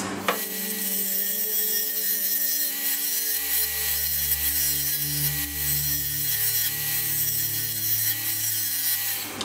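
A lathe takes a fine cut on a turned wooden piece, a steady, close rubbing hiss over the motor's constant hum, lasting throughout with a slight change in tone partway.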